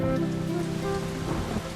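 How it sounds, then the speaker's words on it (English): Steady rain falls on a playground, a continuous dense patter at an even level for the whole stretch, with no voices. "It's raining in the playground."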